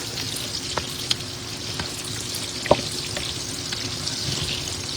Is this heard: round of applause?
no